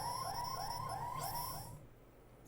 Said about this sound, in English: Some sort of alarm?